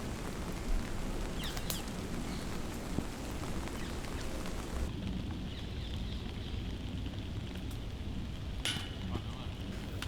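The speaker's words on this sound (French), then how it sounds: "j'entends toujours la pluie qui tombe sur les parapluies des caméramans." Steady rain patters on camera operators' umbrellas at an outdoor disc golf tournament round, a continuous close wash of drops with a few sharper taps and no talking.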